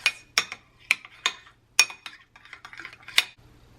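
A utensil stirs and mixes a dip in a bowl, making a quick series of sharp clinks and scrapes against the sides, close and irregular, with no talking.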